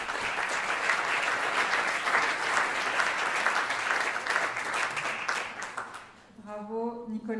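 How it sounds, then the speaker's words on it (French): An audience at a finance trophy ceremony gives sustained, dense applause for the award winner for about six seconds before it fades and a voice begins speaking. "vous pouvez l'applaudir"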